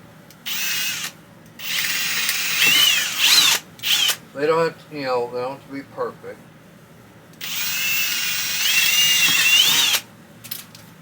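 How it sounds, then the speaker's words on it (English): A power drill whines in two long bursts, one near the start and another later, while drilling holes to mount a Wen 3-speed air filter, with a person talking briefly in between. "that's where I'll drill my holes at"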